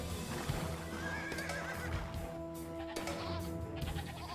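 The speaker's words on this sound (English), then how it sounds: "Goats." Goats bleat over a busy Age of Empires II game soundscape with hooves clopping and a horse whinnying amid steady background ambience.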